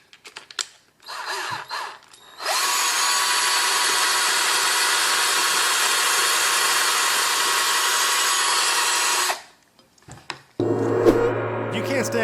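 A power drill spins an ear of corn on the cob in a loud, steady whirring grind lasting several seconds, preceded by short bursts and stopping abruptly before other sounds begin.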